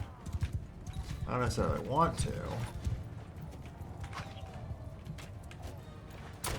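Horse hooves clip-clopping in Mount & Blade Bannerlord during a battle with footmen and archers, a brisk run of hoofbeats under a voice talking, fading into softer ambient game noise.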